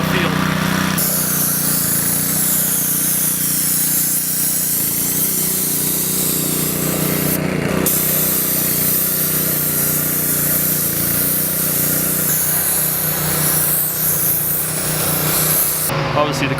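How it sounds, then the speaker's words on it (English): A paint sprayer hisses continuously while the green wall around the playing field at Fenway Park is painted, a loud steady spray with brief pauses and mechanical hum, close by. "I'll start there and I'll spray underneath the pads."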